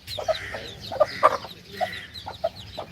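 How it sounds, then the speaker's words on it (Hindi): A hen sitting on eggs beside newly hatched chicks gives short, scattered clucks, close and fairly clear over a quiet background. "मुर्गी भी अंडों पे बैठी हुई है।"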